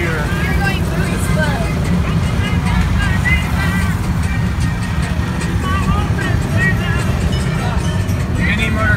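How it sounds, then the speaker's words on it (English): Small mini motorcycle engines buzz and drone through busy street traffic in Brazil, loud and continuous, with voices talking over the noise. "Mini motorcycles."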